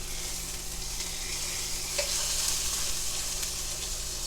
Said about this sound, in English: so we're going to go ahead and flip it over